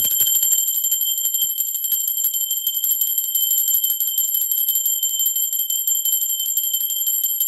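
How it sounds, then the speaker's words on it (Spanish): A sustained, bright ringing tone from a bell, steady and unbroken throughout, with clear high overtones and no voices. "Ahora sí va campana."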